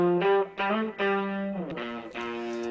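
Electric guitars recorded through an Ampeg Scrambler pedal give a broken, fuzzy distorted tone, several sustained chords and notes struck in sequence, loud and up front with no talking.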